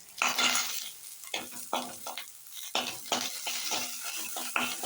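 Spicy chutney gets stirred in a hot pan, a spoon scraping and clattering in repeated strokes over a steady sizzle, close and fairly loud with no talking.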